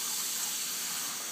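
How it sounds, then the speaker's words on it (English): Water gushes steadily from a kitchen sink faucet, a loud continuous hiss with no voices over it. "lift this lever and magic water will come straight out of this faucet"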